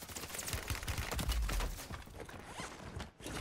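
Gunfire in Call of Duty Warzone on Rebirth Island, a dense string of rapid shots and mechanical clatter with heavy low thumps, fairly constant, then a brief dip near the end.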